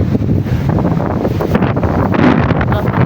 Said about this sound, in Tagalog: grabe na jud kakusog sa hangin kusog sa hangin